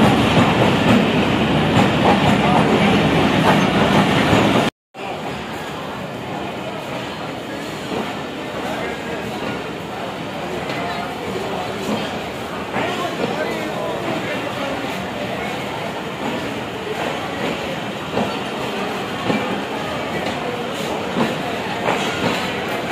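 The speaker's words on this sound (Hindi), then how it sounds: "और ये पाकिस्तान एक्सप्रेस है, तो आ गई है पाकिस्तान एक्सप्रेस।" The Pakistan Express passenger train pulls into a station with a loud, close rumble and clickety-clack of wheels over rail joints that runs on steadily, with a brief cut near the start and voices faintly in the background.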